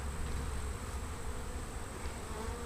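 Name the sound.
honey bees buzzing as they are dumped on the ground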